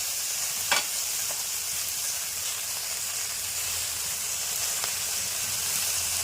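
Hilsa sizzling steadily in hot oil in a pan as turmeric powder is added and stirred in, a continuous close frying hiss with a couple of sharp utensil clicks.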